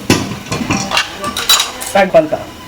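A spoon scrapes and clinks against a metal pot while chicken masala, garam masala and spices are mixed in, a series of close, irregular metallic knocks and scrapes.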